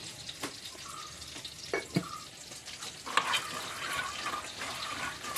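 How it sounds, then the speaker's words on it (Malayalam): Water pours onto soaked chickpeas in a pot for Kerala-style kadala curry, a quiet splashing trickle in short bursts with a few clinks of a utensil, no talking. "നമുക്ക് കുറച്ച് വെള്ളം ഒഴിക്കാം."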